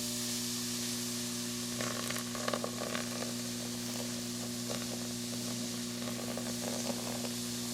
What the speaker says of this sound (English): I'm going to try to pour it in slowly so I don't get a whole lot of fizzing going on.